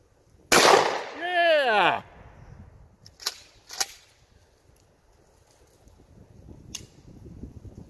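Gunshots ring out outdoors: one loud sharp crack with a ringing, swooping tail, then two quicker fainter pops, and a last distant shot several seconds later, with quiet background between.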